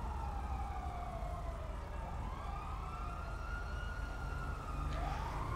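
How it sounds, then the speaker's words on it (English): An ambulance siren wails in the video game GTA V during an LSPDFR police patrol, rising and falling in long sweeps for several seconds, loud and continuous over a low engine rumble. "And ambulance, in route, responding code 3."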